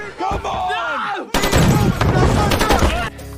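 Gunfire from military base training in Colorado Springs: a dense, continuous stretch of sharp cracks and rapid bursts, loud and busy, following a talking voice at the start.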